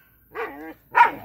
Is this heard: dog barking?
yes